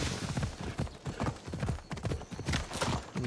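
Horse hooves clip-clop steadily in Assassin's Creed Odyssey, a quick rhythmic trot with occasional whinnies over a busy game soundscape, fairly close and loud.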